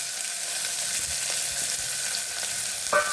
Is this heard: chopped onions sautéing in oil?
yes